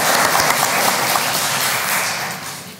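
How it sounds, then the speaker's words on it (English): Audience applause at a school board meeting honoring staff from local high schools, a steady wash of clapping from a room full of people that holds level and then begins to taper off toward the end. "So let's go ahead and give them another round of applause."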